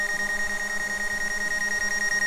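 A DJI Mavic Pro drone gives a proximity warning: a steady rapid electronic beeping, loud and continuous, with a high tone over it and no voices.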